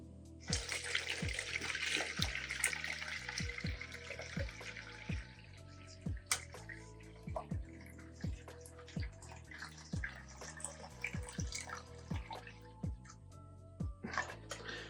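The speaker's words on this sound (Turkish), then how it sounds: "şu şerbetçi otunu süzüyoruz" Hops liquid being strained for homemade bread-based beer, a soft pouring trickle at first, then a long run of distinct drips falling at irregular intervals.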